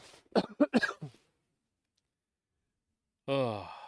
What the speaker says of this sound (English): elbow cough.